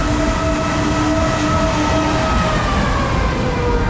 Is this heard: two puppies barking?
no